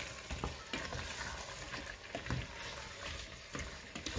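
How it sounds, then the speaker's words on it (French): Chunks of chayote being stirred through a spiced sauce in a hot pan: close, soft wet sizzling with repeated scraping and clacking strokes of the spoon, steady and moderately quiet with no talk. "Les morceaux de chouchou qui vont baigner dans la sauce, on va bien mélanger"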